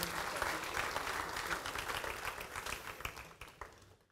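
A crowd applauding, dense continuous clapping that holds steady and then fades out toward the end.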